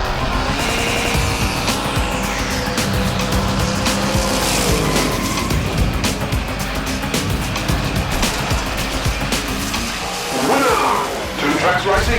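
Hot Wheels diecast cars, a 32 Ford and a Mod Rod, race down a track and crash, making a busy stream of rolling, clattering and impact sounds under an excited race commentator.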